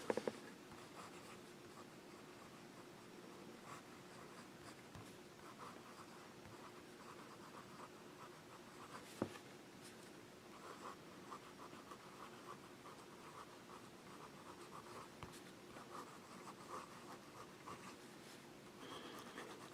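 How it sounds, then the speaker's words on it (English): Fountain pen with a wet, smooth nib writing wet ink on Rhodia paper, a faint continuous scratchy glide with small stroke ticks that runs steadily throughout, close and quiet, with no talking. "we'll just do a little wet test here on rodeo paper. Nice wet ink, nice wet smooth nib"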